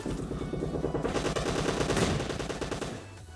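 Sustained automatic fire from a gun in PUBG Mobile, a rapid unbroken stream of shots that runs for about three seconds before cutting off, with no talking over it.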